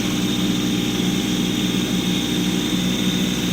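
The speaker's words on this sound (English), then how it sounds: "we're going to scrape forward and raise my blower just a little bit" A Kubota compact tractor with a snow blower scrapes snow across a frozen pond rink, its engine and blower giving a loud, steady, unbroken drone from start to finish.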